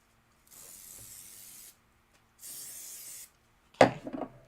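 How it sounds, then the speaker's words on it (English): Adhesive spray hisses onto quilt batting in two separate bursts of about a second each, close and clear, followed by a short rustle and thump of handling. "I'm actually going to spray the right side of my batting."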